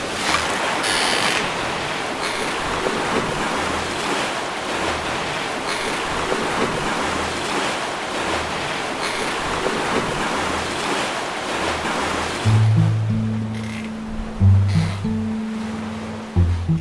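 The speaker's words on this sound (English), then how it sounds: "We'll see how long this wind holds up." Wind rushes steadily over open water on a sailing passage toward Martinique, mixed with waves washing against the boat, then easing near the end as lower rumbling thumps take over; no one speaks.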